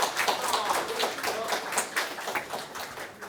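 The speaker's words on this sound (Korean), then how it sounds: "큰 박수 부탁드리겠습니다" Dense, steady applause from a crowd at an award ceremony, many hands clapping together without pause, fading slightly toward the end.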